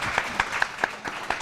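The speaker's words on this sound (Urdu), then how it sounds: "بھئی آغا صاحب کے لیے بجائیں آپ تالیاں." A studio audience at a Ramzan TV transmission claps in an even, quick rhythm, the hand claps landing at steady intervals against a busy background.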